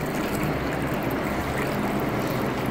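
Water poured into a grinder jug while making beef haleem makes a loud, continuous splashing rush close by, steady from start to finish with no speech over it.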